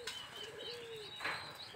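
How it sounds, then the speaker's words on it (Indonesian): A zebra dove of the udan mas kebak type gives a soft cooing call, one faint drawn-out note followed by a brief brighter burst, alone in a quiet room. "Jadi perkutut yang saya pegang ini adalah perkutut udan mas kebak"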